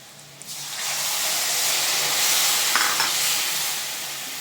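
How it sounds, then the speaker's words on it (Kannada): Seer fish curry masala frying in a pan gives a loud, continuous sizzle and hiss, with the scrape of stirring heard close over it. "ಈಗ ಇದನ್ನ ಚೆನ್ನಾಗಿ ಫ್ರೈ ಮಾಡ್ತೀನಿ"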